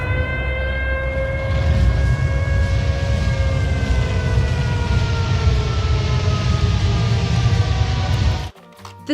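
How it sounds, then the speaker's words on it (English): A wailing air raid siren from the Silent Hill horror game, its tones sliding slowly over a heavy low rumble, loud and continuous for about eight and a half seconds before cutting off abruptly. "The sound of the siren itself appears in Silent Hill, constantly sounding in the background when the setting changes to the horrible other world."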